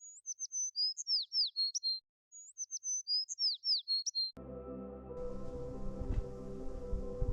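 A small bird in the Binsar forest of the Himalayas repeats a quick, high, twittering phrase in steady bursts, clear and close against silence, before the song cuts off and a low, rumbling background takes over.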